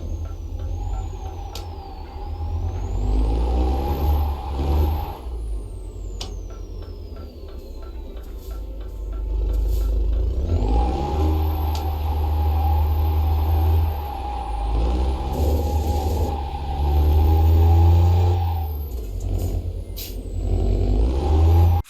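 A straight-six truck with an open exhaust pipe rumbles loudly and steadily at close range, its deep engine note swelling and easing as it revs, with a sharp air-brake hiss cutting through near the end.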